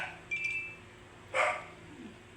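A dog barks outside a house, a couple of short bursts heard at a distance, fairly faint against a quiet background.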